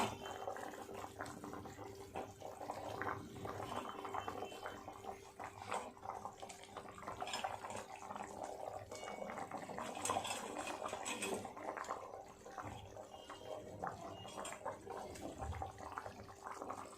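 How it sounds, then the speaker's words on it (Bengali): Potato and dhoka curry gravy bubbling away in a pot on the stove, a steady, dense simmering hiss and gurgle that carries on without a break, close and fairly loud, with no one speaking over it. "ঝোলটা খুব সুন্দর টকবক করে ফুটে গেছে"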